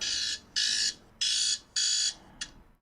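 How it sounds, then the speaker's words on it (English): A loud electronic alarm beeping in four long even pulses and then a short fifth one, sounding alone with nothing else heard. "There's my alarm."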